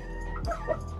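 A Leaper Black Eyes chicken gives a couple of short, soft clucks close by, heard alone with a quiet background.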